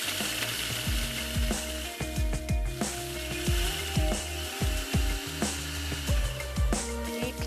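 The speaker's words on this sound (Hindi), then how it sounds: "तो मैं यहाँ पर बिस्किट्स को क्रश कर लेती हूँ।" Biscuits are crushed in a home kitchen with a series of crunchy, uneven cracks and thumps, repeated rhythmically at close range and moderate loudness.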